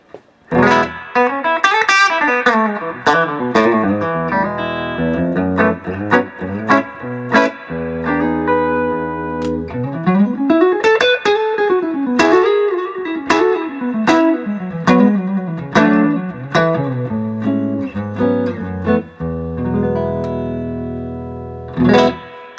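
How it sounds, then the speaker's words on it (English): An electric guitar plays alone with a clean, undistorted tone and no pedals or processing, mixing plucked single notes and ringing chords at a steady, close, fairly loud level. "That's just a great natural guitar sound."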